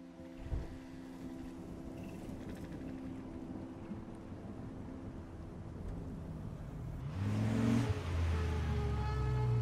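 A car engine hums steadily through a drive in the video game Life is Strange, with low tonal rumble throughout and a louder surge of engine noise near the end.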